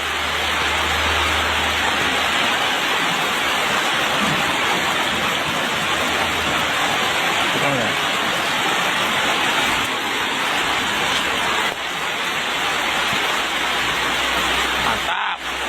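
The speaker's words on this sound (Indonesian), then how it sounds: "Nah, hujan bro." Heavy, continuous rain pours down in an even wash of noise, loud and close, with a low rumble underneath throughout.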